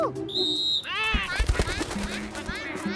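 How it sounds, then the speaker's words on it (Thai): A bright whistle tone sounds in a cartoon, sustained then gliding in pitch, amid busy animated voices and scattered sharp effects. "ฉันจะลองเป่านกหวีดดู"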